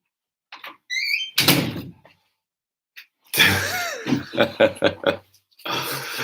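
A door being shut indoors, with a short squeak and a solid thunk early on, followed by a person talking over later scuffs and knocks.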